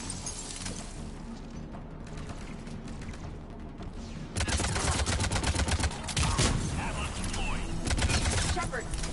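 Rapid gunfire crackles through a Mass Effect 3 firefight, quieter at first and then a dense, loud burst of continuous shots with shouting voices mixed in.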